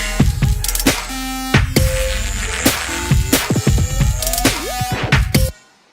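Layered synth instruments play one shared MIDI pattern: punchy percussive hits mixed with gliding, pitch-bending tones and a bright, gritty texture, loud and close, stopping abruptly near the end.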